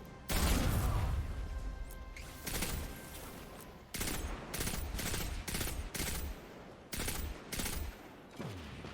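Rapid bursts of gunfire from the Destiny 2 video game ring out in repeated loud volleys separated by brief pauses, with sharp impacts and crashes, and no one talking.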